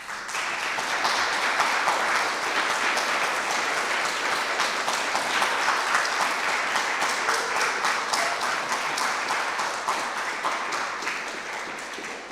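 A roomful of listeners claps steadily after a poetry reading at a San Francisco art space, a thick even wash of applause that holds for several seconds and eases slightly toward the end.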